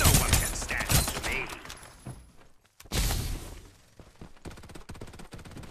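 Rapid bursts of automatic gunfire rattle through a Farlight 84 battle, loud and dense at first, breaking off briefly, then resuming as a quicker string of sharp shots.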